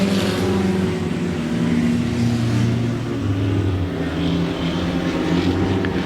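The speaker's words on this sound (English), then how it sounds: "the 18 machine of Richard Smith kind of working that car there through turns 1 and 2" Race cars roar through turns 1 and 2 at 105 Speedway, loud steady engine drone with shifting pitch as the pack works through the corners, no speech heard.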